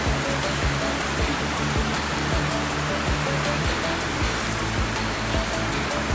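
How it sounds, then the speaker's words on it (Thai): Steady rain falls over a rural farm field in Isan, Thailand, a continuous broadband wash of drops with no pauses, fairly loud and without talk. "เสียหญ้าบ่ได้ฝนตก"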